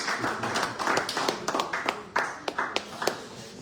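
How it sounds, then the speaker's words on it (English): Applause at a legislative internship reflection session, heard as scattered, uneven hand claps from a small group, moderately close and fading into a few isolated claps. "Give him a round of applause, please."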